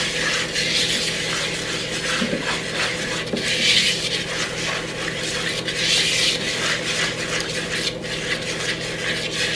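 A spatula mixes baking ingredients in a bowl, giving a steady, close scraping and rubbing that continues without pause for the whole stretch, with no voices over it.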